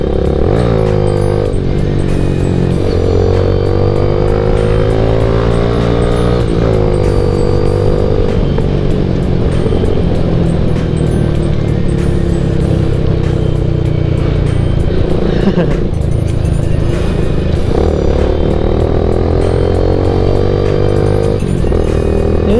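A Yamaha MX King motorcycle from 2009 runs close by, its engine note climbing and falling through repeated revs with a buzzing, harmonic tone that carries loud and continuous throughout.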